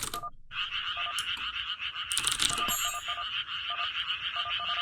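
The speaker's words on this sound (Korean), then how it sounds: "오랜만에 개구리 소리" Frog croaking in an animal sound quiz custom game map: a run of short, regular croaks repeating at an even pace over a steady synthetic background ambience.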